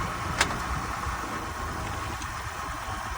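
A 2006 Honda Odyssey at a police towing auction runs after a jump start, its engine idling with a steady broadband rumble and hiss, outdoors and fairly close, with one brief click near the start.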